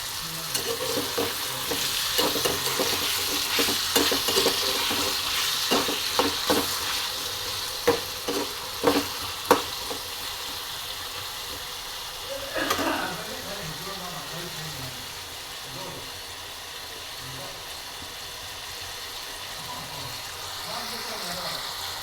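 Bamboo shoots with turmeric fry in a pan, a steady sizzle broken by clustered scraping stir strokes early on, then a quieter hiss with light rattles near the end.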